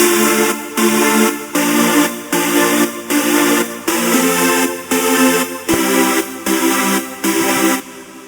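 Thick layered future bass synth chords pulse in rhythmic stabs, repeating about a dozen times at a steady tempo, loud and full, with no voices.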